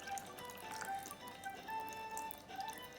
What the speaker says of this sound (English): So the water is just draining.